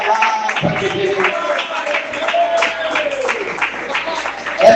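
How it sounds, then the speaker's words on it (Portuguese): Congregation at an evangelical church service applauding, steady crowd clapping that continues throughout, with a voice speaking over it and some musical tone beneath. "pode aplaudir a palavra de Deus"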